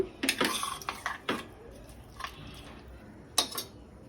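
A spoon stirs masala through tender mutton curry in a metal pot, giving several sharp scraping and clinking strokes with quieter shuffling between them, close by and with no talk.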